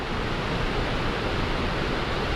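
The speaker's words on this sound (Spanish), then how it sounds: "cascada" The Velo de la Novia waterfall, on a hiking trail at Radal Siete Tazas near Molina, gives a steady, dense rushing roar that holds evenly throughout.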